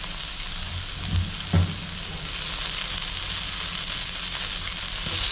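Onions fry and sizzle in a hot pan with a steady, close hiss, broken near the start by a couple of brief stirring knocks.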